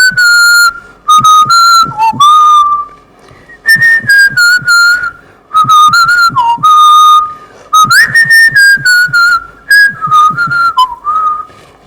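A Guinness world record holding whistler performs the chorus of a theme song, loud, clear melodic whistling in rising and falling phrases with short pauses between lines, alone without talk.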